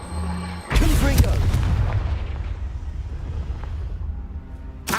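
Confringo blasting spell going off in Hogwarts Legacy, a sudden loud booming explosion followed by a long rumbling decay that fades over several seconds.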